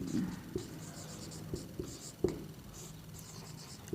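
Chalk or marker tapping and scratching across a board during a lesson, a handful of soft strokes and taps under quiet background hiss.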